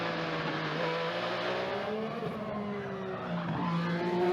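An IndyCar race car slides through the concrete-walled turn 3 at the Arlington Grand Prix during qualifying, its tires squealing in long wavering tones over a roaring engine, close and loud with no talk.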